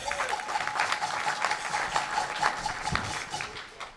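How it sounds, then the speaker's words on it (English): Applause from members at a Rotary Club of Tucson meeting, a moderate wash of clapping from a roomful of people, fairly even throughout and somewhat distant. "Just give him applause for he's here."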